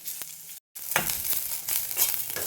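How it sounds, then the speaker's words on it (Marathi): Onions frying in a little oil in a wok, browning to a reddish colour. Steady crackling sizzle with scattered pops and stirring scrapes, close and moderately loud after a brief silent gap near the start. "कढईमध्ये थोडंसं तेल घालून त्यामध्ये कांदा पण आपल्याला लालसर असा भाजून घ्यायचा आहे."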